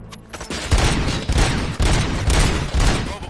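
Gunfire in the game Robocop Rogue City, loud sustained bursts of rapid shots with heavy low booms pulsing through the whole stretch.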